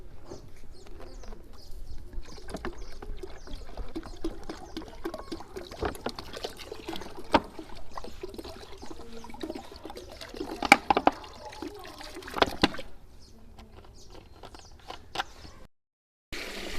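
About 20 litres of water pour steadily into a large pot for a batch of red sharbat, a continuous trickle and splash with birds chirping and cooing close by, until the flow ends in brief silence.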